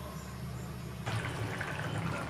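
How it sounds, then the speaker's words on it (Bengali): Curry broth with ridge gourd boils in a pot, a continuous soft bubbling and hiss that suddenly grows fuller and louder partway through. "দেখো ঝোলটা ফুটেছে"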